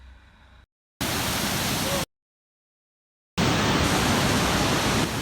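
Rushing water at Kel waterfall in Kashmir, a loud, steady broadband roar heard in two long bursts separated by abrupt silent gaps, with no voices.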